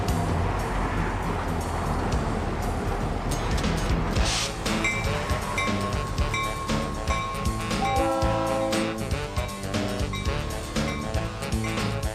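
A GP38 locomotive pulling a caboose rolls past with dense rumbling, metallic clinks and squeals, and a tonal horn-like ringing through the middle, loud and continuous.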